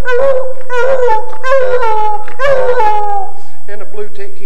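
A man vocally imitates a bluetick coonhound baying on a turkey hunt, giving drawn-out, wavering howls in three or four loud, close bursts, ending with a lower, shorter note.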